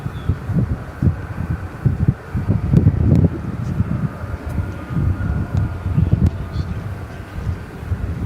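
Airplane noise at DFW Airport at night, a continuous low rumble with uneven fluctuating texture, moderately loud and distant, no talking.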